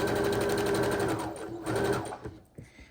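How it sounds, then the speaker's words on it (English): A sewing machine runs loud and close as it stitches quilt fabric squares together, its motor whirring steadily for about two seconds before slowing and stopping with a few small clicks. "We're sewing on the backs of the fabric."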